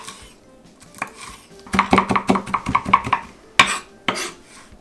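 A knife chops fried bacon pieces on a board in a quick run of crisp, close taps, with a few louder knocks toward the end and no talking.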